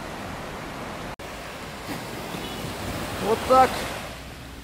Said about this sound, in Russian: Море. Сегодня длинная волна